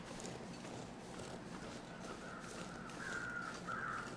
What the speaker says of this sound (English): There's like crows everywhere.